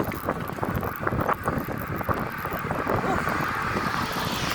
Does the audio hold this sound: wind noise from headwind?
yes